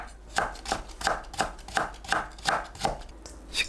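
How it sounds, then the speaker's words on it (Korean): A kitchen knife julienning carrot for spring kimchi strikes the board in a quick, regular run of about nine crisp chops, close and clear with no talk. "당근을 채 썰어주세요"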